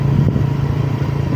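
A big bike doing a burnout at a plaza, its engine holding a steady, loud, continuous drone with a faint clatter, heard close and without any talk.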